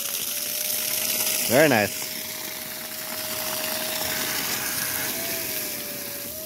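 Water rushing from an opened valve on a farm's solar-powered pump station, a constant loud gushing hiss throughout, with a person briefly speaking over it.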